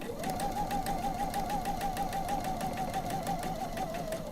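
A quilter's sewing machine runs a quarter-inch quilt seam with an even, moderately quiet hum and a regular stitching pulse throughout, with no one speaking.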